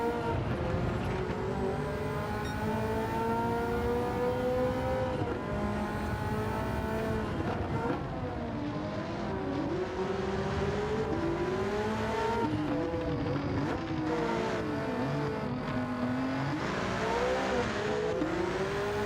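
Ferrari F40 in Gran Turismo 7, a loud engine revving up and down steadily through gear changes while racing, continuous and close with no talk.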